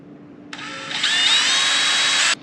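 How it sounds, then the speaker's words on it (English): A power drill bores into a Lisle 36100 steel pocket pry bar: a loud, steady high-pitched whine that rises slightly in pitch partway through, running for about two seconds and then cutting off abruptly, with no voices. "So that's drilled out."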